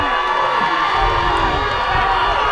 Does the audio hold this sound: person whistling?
no